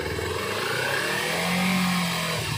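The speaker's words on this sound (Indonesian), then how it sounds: "Kita dengerin suara mesinnya di depan." A stock Kawasaki Ninja 250 with its standard exhaust, engine still cold, revs steadily up and holds a mid-pitched drone before easing back down, loud and close with no talking.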